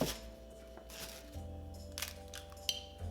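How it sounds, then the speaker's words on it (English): Eggs cracked into a large bowl for shrimp egg foo young, a few sharp crisp cracks and shell taps close by over quiet kitchen background. "In a large bowl, we're going to crack in the eggs and whisk."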